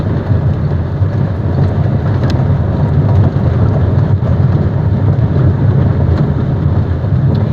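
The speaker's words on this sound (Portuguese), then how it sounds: "olha a chuva que chegou agora" Heavy rain pounds steadily on a Volkswagen Gol G6 1.0 as it drives, a dense continuous roar of drops over low road and engine rumble, loud and unbroken throughout.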